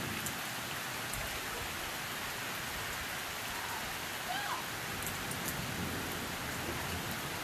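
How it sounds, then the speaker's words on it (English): Steady rain pours down during an intense late summer thunderstorm in Kenmore, Washington, a dense even hiss of drops on surfaces that continues throughout, with faint scattered sounds beneath. "Now it's starting to rain."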